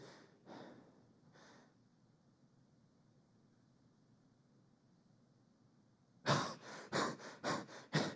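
A voice imitates a newborn baby's irregular breathing: a few soft breathy bursts at the start, a long quiet pause, then a loud cluster of rapid snorting, gasping breaths near the end.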